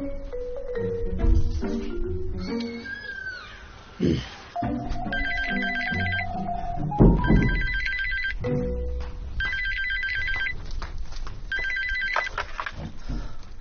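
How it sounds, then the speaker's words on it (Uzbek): A phone's ringback tone repeats during an outgoing call, with four evenly spaced ring bursts over steady background music and sound. "Men amman telefon qilay."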